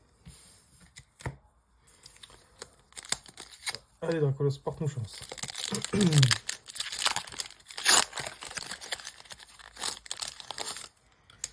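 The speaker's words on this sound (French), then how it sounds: "Désolé si vous entendrez beaucoup les bruits de papier" Paper wrapping of Pokemon card packs crinkling and tearing in bursts at close range, with a person speaking French between and over the rustling.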